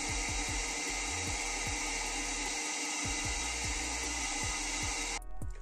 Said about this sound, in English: I also use my vacuum cleaner setup to help.